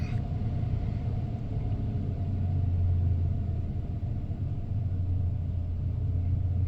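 A 1994 Ford F150 XLT pickup's 302 V8 settles into a steady, low rumbling idle after a cold start, heard alone and fairly close.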